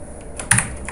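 Computer keyboard keys typing the letter O in CorelDRAW, a couple of quick, close clicks over a quiet background.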